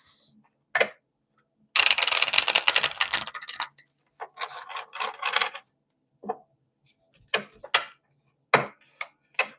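Bursts of papery riffling and crisp flicks as tarot cards are shuffled, one long shuffle followed by several short separate snaps and slaps, close and alone.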